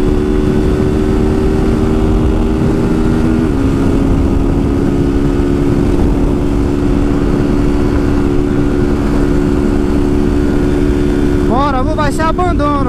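A Honda Start 160 motorcycle engine with a modified camshaft and no air filter drones steadily, then climbs in a series of quick rising revs near the end, loud and close.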